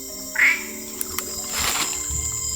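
A frog calls near a pond in the Amazon, a short rising chirp followed by clicks and a wash of wet rustling and background noise, fairly close, with no talk.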